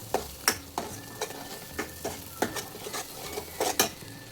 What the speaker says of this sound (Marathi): मिक्स करून भाजून घेऊया.